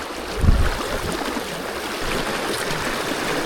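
Fast, cold River Tyne current rushing around a salmon angler wading deep on the Dilston beat, a steady broadband wash with a brief low thump of water against the legs early on, no talking.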